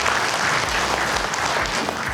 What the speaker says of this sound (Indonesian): Tepuk tangan untuk Anda Bapak Ibu